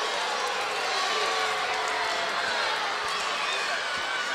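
Ice hockey arena crowd at a Bridgeport Sound Tigers at Providence Bruins game, reacting unhappily to the visitors' tying power-play goal with a steady, loud wash of crowd noise throughout.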